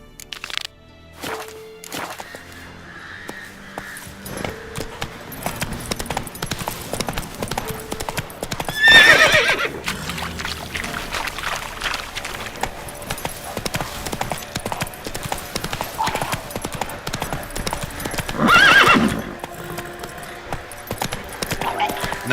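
Roach the horse galloping in The Witcher 3, a rapid, continuous clip-clop of hooves with two loud whinnying neighs partway through and near the end, over game ambience.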